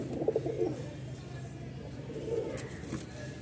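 Rajshahi giribaz pigeons coo softly in low, throaty bursts at the start and again near the end, against a steady background hum.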